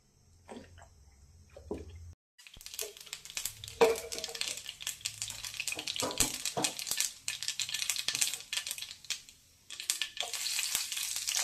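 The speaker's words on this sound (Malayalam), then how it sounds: "അപ്പോൾ നമുക്ക് കടുക് താളിക്കാം" Mustard seeds hit hot oil for tempering, a quiet start with a couple of knocks giving way to a loud, crackling sizzle that bursts in and keeps spitting and popping to the end.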